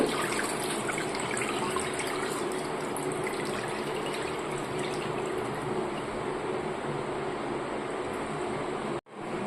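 Water steadily drains and trickles from a batch of soaked pumpkin leaves lifted out of a bowl in a kitchen, a continuous close, moderately quiet splashing flow that cuts off abruptly near the end.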